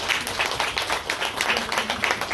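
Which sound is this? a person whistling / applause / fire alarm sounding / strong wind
applause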